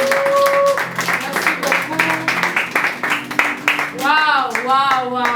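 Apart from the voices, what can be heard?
audience applause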